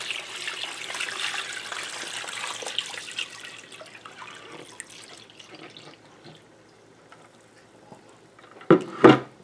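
Honey wash left from cleaning beeswax is poured into a batch of crabapple mead, giving a soft liquid trickle and drip for several seconds that tapers off, then a brief louder splash and clatter near the end.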